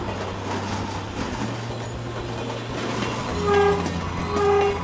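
A train with steel wheels on steel rails rumbles steadily past, a low continuous drone joined near the end by two brief horn toots.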